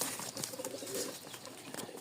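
A female pigeon coos softly in a loft, low throaty murmurs close by against faint background hiss, with no talking.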